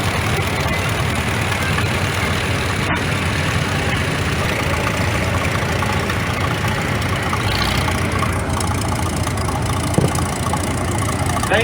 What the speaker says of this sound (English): 1936 Farmall F12, Todd Clemondon from Lake Leelanau.